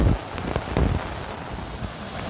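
Heavy monsoon rain pours over a flooded village road near the sea, a dense steady wash of rain and gusting wind buffeting the microphone, with a few dull knocks near the start.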